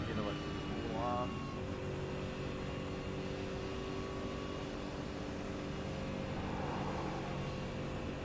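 A supercar engine in the iRacing sim drones steadily at close range, holding a constant hum with a brief rising whine early on, while people talk over it.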